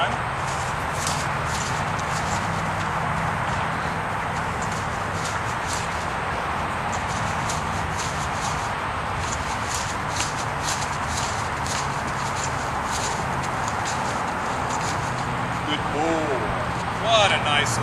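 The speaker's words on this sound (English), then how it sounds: "What a nice little horse." A three-year-old mustang gelding walks with soft, irregular hoof clops and shuffling steps, while a voice talks over it, with birdsong and other faint sounds outdoors in the background.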